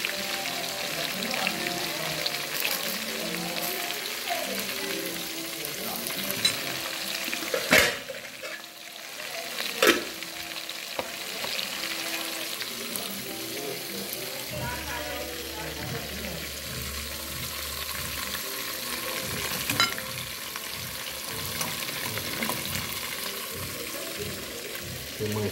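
Mandi fish frying in oil in a pan, a continuous dense crackling sizzle with occasional sharper pops and utensil knocks, steady and close throughout.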